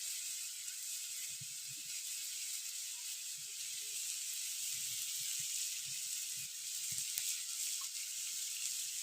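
Turmeric powder being stirred into a sizzling pan gives a soft steady hiss, faint and close, with occasional low scrapes and knocks from stirring and no voices.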